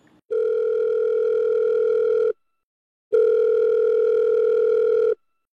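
Telephone ringback tone for an outgoing call, two long steady buzzing rings with a pause between them, clear and alone with no talking.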